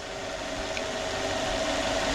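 A Maybach car engine idles steadily with a low, even hum and faint vibration, no voices present.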